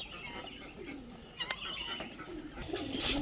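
Faint pigeons cooing in a loft kept with a white Homer, low soft coos rising and falling over steady background noise, with a sharper chirp or two near the end.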